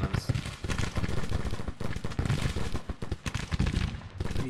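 Sharps rifles in a Grand Tactician Civil War battle, dense, continuous crackling volleys of rifle fire with overlapping shots and booms, loud and sustained throughout.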